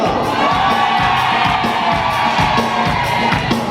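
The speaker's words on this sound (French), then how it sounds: "Applaudissements pour Régine." At a wedding celebration, a crowd of guests cheers and whoops loudly with steady applause, a dense close-up roar of voices and hands throughout.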